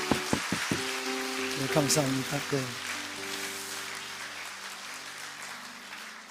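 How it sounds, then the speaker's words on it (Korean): Church congregation applauding during a Sunday worship service, a burst of clapping swelling and fading over a few seconds amid organ-like sustained tones, with a voice speaking briefly over it. "윤홍석 성도님, 박수 한번 할까요?"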